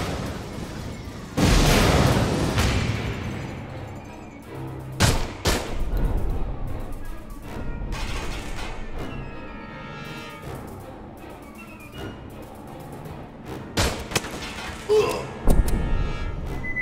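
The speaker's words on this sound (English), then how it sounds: "A second volley of missiles just struck the Sephora." Heavy missile volley explosions rock a ship during a sci-fi space battle in Aliens: Colonial Marines, with loud booming blasts at irregular intervals and sharp impacts amid rumbling background.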